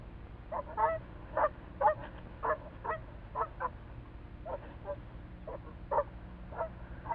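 Canada geese honk repeatedly while a family grazes in an open meadow that was once a beaver pond, with short calls recurring every half second or so at moderate distance.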